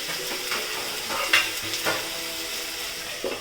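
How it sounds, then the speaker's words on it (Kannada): Biryani ingredients fry in hot oil in a pan partly covered with a plate, giving a steady close sizzle with a few soft stirring scrapes and no voices. "ಇದು ಆಯಿಲಲ್ಲಿ ಫುಲ್ ಫ್ರೈ ಆಗಿ ಅಲ್ಲಿವರೆಗೂ ಸ್ವಲ್ಪ ಪ್ಲೇಟ್ ಮುಚ್ಚಿದ್ದಾನೆ."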